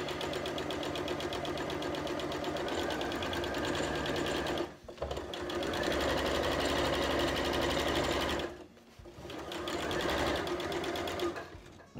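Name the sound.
sewing machine stitching upholstery fabric mat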